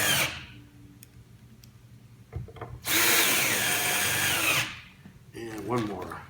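A power drill drives screws into the brackets of a compact recording studio desk, with short bursts and then one long sustained whir, while a person speaks briefly in between.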